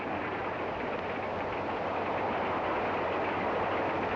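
Steady rumbling roar of a moving train, with a constant broadband rattle and low drone throughout, no voices over it.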